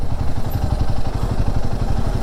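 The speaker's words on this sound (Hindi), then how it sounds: "अब देखते हैं बाइक कैसा परफॉर्म करेगी चढ़ाई में" A Royal Enfield Himalayan 450 motorcycle labours up a ghat section climb, its engine giving a loud, close, steady pulsing thump with a rapid even firing rhythm and some clatter.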